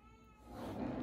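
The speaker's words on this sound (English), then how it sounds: "Now my cat wants to start hollering." A house cat lets out one drawn-out meow that swells in loudness, heard close and on its own.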